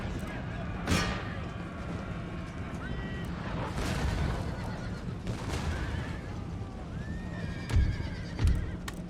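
Cavalry horses in an Empire: Total War battle neigh and whinny amid clopping hooves, with distant cannon and gunfire thuds and a steady battle noise bed underneath, while a person talks intermittently.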